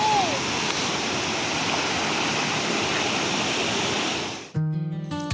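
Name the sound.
waterfall rushing near a bridge in Sikkim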